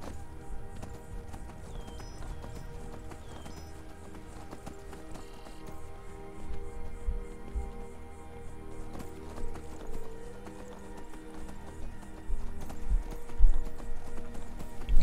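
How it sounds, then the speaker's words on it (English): A horse running slowly in the video game Skyrim, with rhythmic clip-clop hoofbeats over a steady layered music bed, growing louder and more pronounced toward the end. "Horsey just running really slow."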